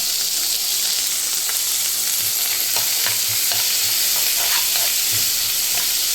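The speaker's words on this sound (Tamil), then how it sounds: "வெங்காயத்தை போட்டுக்கலாம் கருவேப்பிலை போட்டுக்கலாம்" Onions and curry leaves fry in a pan with a loud, steady close-up sizzle, punctuated by occasional stirring scrapes.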